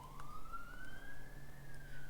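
A police car or ambulance siren sounds outside on a distant street, one long rising wail that slowly climbs in pitch, heard faintly indoors over a low room hum.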